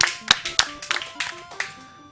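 A few scattered hand claps ring out over a faint electronic tone, uneven and close by, during a Pokémon Red/Blue speedrun event.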